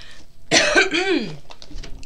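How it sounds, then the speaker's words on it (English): A single wet, phlegmy cough burst, close and fairly loud, followed by a rasping throaty exhale, then quiet. "It's a wet cough."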